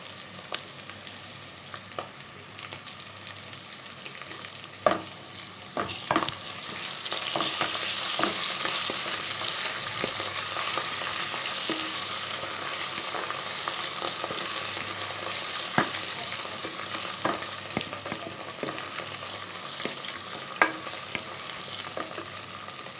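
Ginger garlic paste and cumin sizzle and fry in oil for mutton pulao, with a steady hiss and repeated scrapes and clinks of stirring throughout.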